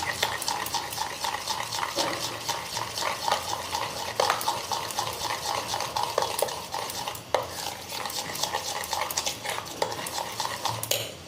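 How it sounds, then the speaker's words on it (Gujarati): Dhokla batter with Eno and a little water being stirred steadily in one direction, a continuous close scraping and clinking of a spoon against the bowl with no talking. "બેટરને એક જ ડાયરેક્શનમાં આપણે ફેરવી લઈશું"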